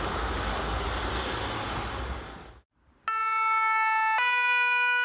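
A fire brigade doctor's car sets off on an urgent call near Cap d'Agde: road and engine noise fade to a brief hush, then a loud two-tone siren blares close by, switching pitch once partway through.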